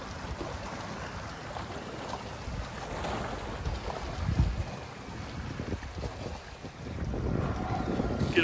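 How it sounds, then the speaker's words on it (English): Water rushes over rocks beside a concrete seawall, a steady broadband wash of surf mixed with heavy wind buffeting the microphone, swelling a little louder toward the end. "Water rushing over the rocks is always a nice relaxing and calming sound."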